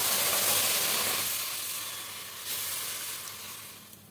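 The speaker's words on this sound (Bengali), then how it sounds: "এদিকে একটা কড়াই বসিয়েছি, এবার এখানে 1 মগ জল দেবো" Water poured into a hot kadai gives a loud burst of steamy hiss and sizzle that slowly fades over a few seconds, with a brief flare partway through, and no voices.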